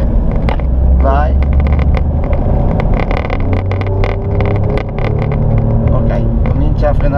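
Alfa Romeo Giulia Quadrifoglio pulling hard from the driver's seat on a test drive, its engine note a loud, steady drone with a rising tone near the start, while voices talk over it throughout.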